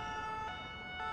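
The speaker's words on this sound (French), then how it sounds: "l'ambulance qui est là-bas, qui devrait pas tarder à arriver" A French-style ambulance siren in GTA IV sounds faintly and steadily over a low road and traffic rumble for a brief moment, with no voices.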